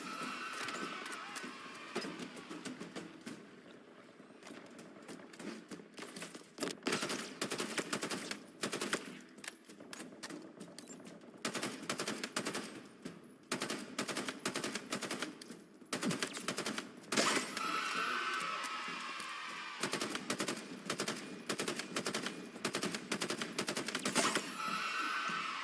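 Shade turrets in the video game Mangler Mythic Quest fire in rapid, machine-gun-like bursts that come in dense volleys with brief pauses, loud and continuous across the scene.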